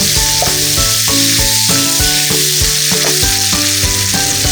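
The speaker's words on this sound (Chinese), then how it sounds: "倒入小葱，大火翻炒约10秒。" Onion and scallions stir-fried over high heat in a wok, a loud continuous sizzle and hiss beneath prominent rhythmic background music.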